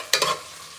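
A utensil stirs food in a pot, giving a brief scraping swish followed by a soft sizzle.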